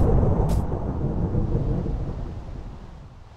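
Thunder rolls loud and close after a lightning strike in a survival video game, a broad rumbling crash that starts at full strength and slowly fades away over a few seconds, with no voices.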